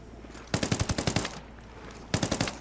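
Two rapid bursts of automatic gunfire from a weapon in Ghost Recon Wildlands, close and loud: a long string of about ten evenly spaced shots, a short pause, then a shorter burst of several more.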